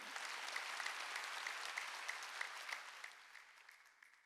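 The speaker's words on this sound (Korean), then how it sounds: "박수로 하나님께" Congregation applauding during a Wednesday church worship service, a sustained, fairly soft clapping that holds steady and then fades toward the end.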